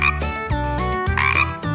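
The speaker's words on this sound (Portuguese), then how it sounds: "O animal diferente é o sapo Pepe!" A cartoon frog croaking in a farm animal game, a series of loud, close, deep throaty croaks in quick succession, each a short resonant burst, alone with no talking.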